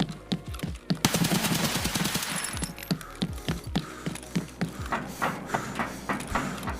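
Rapid gunfire from a firefight in the video game Escape from Tarkov, with a dense loud burst of automatic shots early on, then sharp repeated single cracks and mechanical clacks continuing steadily to the end.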